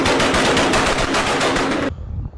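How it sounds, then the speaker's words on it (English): Rapid gunfire in a fast, evenly spaced machine-gun burst of about a dozen loud, close shots, ending abruptly as the sound cuts to quieter background. "I hear shots!"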